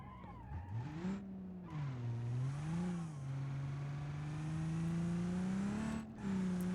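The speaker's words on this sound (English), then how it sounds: "You hear the wastegate there." Cummins diesel-swapped Ford Galaxie in the BeamNG driving game, its turbo wastegate venting under heavy boost while the engine drones loudly with a steadily rising pitch, briefly dipping between gears.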